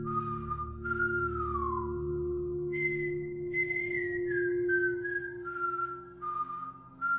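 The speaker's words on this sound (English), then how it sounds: "The whistling was right outside our house now" A lone, wavering whistled melody with long sliding notes, clear and close, set against a low steady hum.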